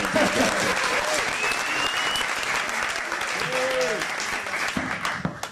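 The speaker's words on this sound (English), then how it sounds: "Let's have a nice round of applause." Audience at a live film-pitch event in Napa Valley breaks into sustained applause, a dense steady roar of clapping from a crowd filling the whole stretch, with a few faint voices mixed in.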